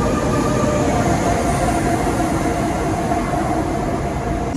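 An S-train at the Brussels-South station platform makes a loud, steady rumble and rolling hum throughout, with a faint high whine and no voices.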